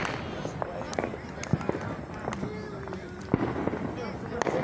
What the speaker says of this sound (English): fireworks right now.